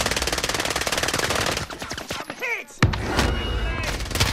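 Rapid automatic gunfire in a video game firefight, loud and close, with bursts of shots, a brief pause, then a heavy blast and more firing, voices faintly under it.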